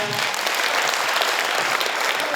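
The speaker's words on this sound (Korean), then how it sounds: "다시 한번 큰 응원의 박수 부탁드리겠습니다." An audience at a provincial town-hall forum in Seongju County bursts into applause, a thick, loud and continuous clatter of many hands that fills the brief moment without any speech.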